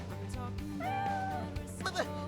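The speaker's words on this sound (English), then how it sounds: "There goes Kitty Cat." A cat meows briefly in the video game Xenoblade Chronicles X Definitive Edition, with one wavering, mid-pitched cry that sits over a steady background of game music.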